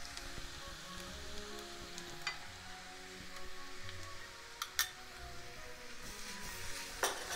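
Onions caramelizing in a frying pan as tomato paste goes in, a steady soft crackling sizzle with a few sharper clinks and taps of a utensil against the pan, no talking.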